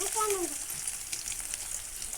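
A soft, steady sizzle of chopped onions and green chillies frying in oil, faint and continuous, with a brief whining tone at the start.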